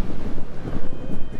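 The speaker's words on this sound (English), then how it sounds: "still windy, still cold" Heavy wind buffets the microphone with loud, gusty low rumbling throughout the short moment, outdoors on a cold night.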